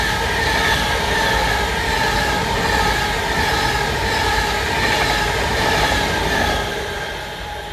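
Avanti class 390 electric train passing at Levenshulme, a steady loud rolling roar with rail hum and faint clickety-clack, sustained close by for several seconds before easing slightly at the end.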